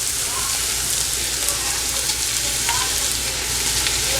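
Dry chilies fry in a pan for a chili chicken dish, giving off a steady, close, crackling sizzle with small pops throughout.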